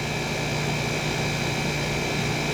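A 1970s Westinghouse 6000 BTU window air conditioner's compressor runs with a steady, dense hum and a fixed tonal whine, close and constant, with no voices.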